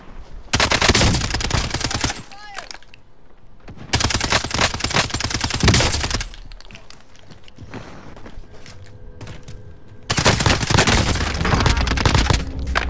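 Rapid automatic bursts from a Striker 45 submachine gun in Warzone Modern Warfare crack loudly and close in three long volleys, with quieter gaps of footsteps and game sounds between them.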